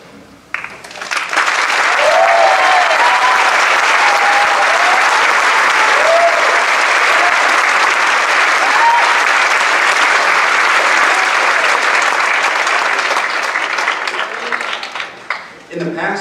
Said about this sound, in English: would you please stand and accept your applause now?